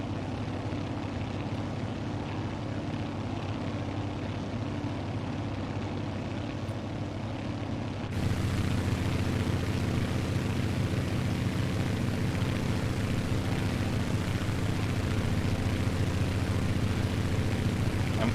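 Twin radial engines of a Grumman Goose seaplane drone steadily in flight over Alaska in Microsoft Flight Simulator, a continuous loud hum that steps up noticeably in power partway through and holds there.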